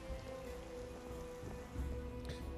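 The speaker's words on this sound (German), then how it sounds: "Ah, dieser Regen, ne? Ich hasse diesen Regen." Rain in the Minecraft video game, a steady patter of raindrops falling continuously at low volume, no talking.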